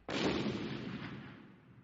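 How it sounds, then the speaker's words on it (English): A single loud explosion from excavation work near a river bursts in sharply and then rumbles away slowly over the following second and a half, with no talk. "Then I heard an explosion."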